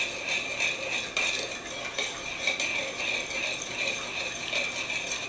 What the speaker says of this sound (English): Keep stirring it. You want to get that honey all worked in.